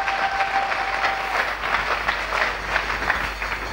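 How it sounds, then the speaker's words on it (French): Church congregation applauding loudly and steadily, a dense wash of clapping from many hands that fills the room without a break. "Acclamons très fort pour les voix."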